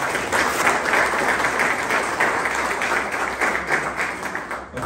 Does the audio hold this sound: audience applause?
yes